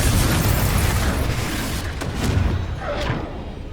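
A blasting spell explodes in Hogwarts Legacy with a loud, rumbling boom that fills the clip, followed by a couple of sharper bursts as the blast fades.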